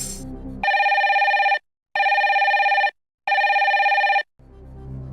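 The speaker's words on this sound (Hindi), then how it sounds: "भोपाल में फोन लगाया जाए" A telephone rings on a television quiz show as a phone-a-friend call is dialed to Bhopal. Three loud, steady, electronic ring bursts are separated by short silences, with no talk over them.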